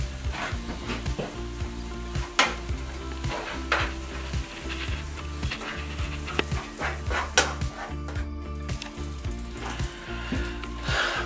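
Meat for spaghetti sauce sizzles steadily in a pan, loud and close, with repeated scraping stir strokes and clattering of a utensil against the pan throughout.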